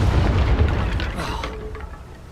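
A Confringo explosion spell cast in Hogwarts Legacy bursts with a loud, deep boom that rolls off into a fading rumble over about two seconds.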